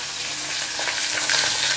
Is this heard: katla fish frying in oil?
yes